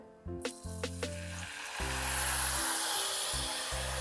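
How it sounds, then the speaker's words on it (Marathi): Masala paste sizzling and frying in a pan for stuffed tondli (ivy gourd), a steady close hiss that swells and holds, with a few earlier taps of a spoon against the pan. "मसाला हा आपण आता परतून घेऊया"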